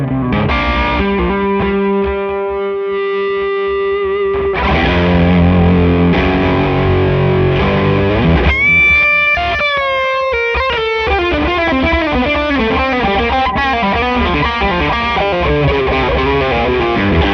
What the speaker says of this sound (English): we're going to add a little bit of overdrive and distortion along with the delay